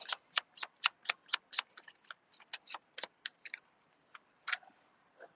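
Tarot cards are shuffled and drawn outdoors at a cemetery, giving a quick run of crisp, evenly spaced snaps and riffles that loosen into sparser flicks and taps, close and fairly quiet.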